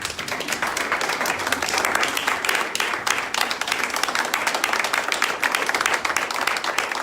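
Church congregation applauding after a call to stand and praise, steady dense clapping from many hands throughout, with faint voices mixed in.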